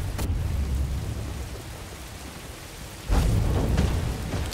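Rain falling in the video game Star Wars Jedi: Fallen Order, a dense, steady downpour with a low rumble, briefly thinning then swelling louder near the end, no voices heard.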